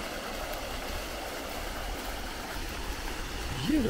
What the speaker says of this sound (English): There must be a fountain here around the corner.